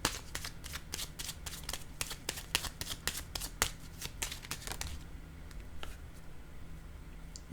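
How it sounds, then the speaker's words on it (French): Tarot cards are shuffled in quick, rapid riffling bursts for about five seconds, followed by quieter soft slides and taps as cards are laid down, close and crisp. "Je vais déposer une carte ici."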